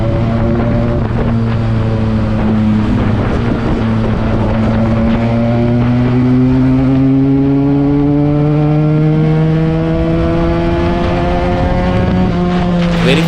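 Benelli 300 motorcycle fitted with an Akrapovic exhaust revving on the move, its engine note climbing steadily over several seconds with wind buffeting the microphone.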